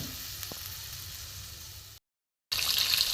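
Pointed gourd and potatoes bubble in a thin bata fish curry, giving a steady, close hiss and sizzle that cuts out briefly, then returns brighter.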